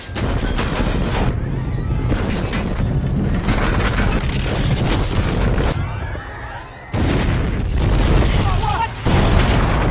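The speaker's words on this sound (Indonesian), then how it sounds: "seketika terjadi ledakan di sekelilingnya" A bomb detonates with loud rumbling explosions and dense crackling bursts filling the scene, dropping briefly before another heavy blast erupts.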